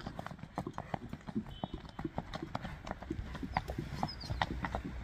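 Horse hooves clip-clop steadily on the ground as a Kyrgyz ulak horse is walked along, close and fairly loud, with faint voices in the background.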